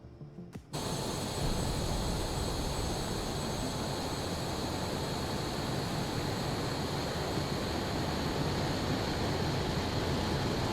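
A simulated MiG-25 Foxbat jet engine in a flight simulator game roars at a steady, loud, broadband pitch through a climb, kicking in sharply after a brief quieter moment at the start, with no talking.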